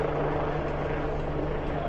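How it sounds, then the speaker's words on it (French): A helicopter hovers above a street demonstration in France, its rotor a continuous, dense rumbling wash that stays steady and fairly close throughout. "un hélicoptère"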